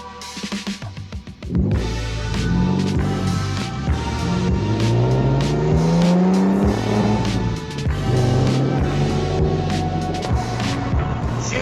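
Inside a moving car with the windows down, the engine drones and revs through gear changes, with rushing wind and road noise throughout.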